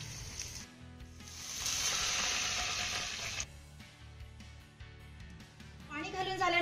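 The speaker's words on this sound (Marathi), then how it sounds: "आता यामध्ये आपल्याला 2 वाट्या पाणी घालायचं आहे" Water poured into a pan of sautéed raw potato mixture gives a loud, steady sizzle that swells for about two seconds, then settles into softer bubbling under background noise.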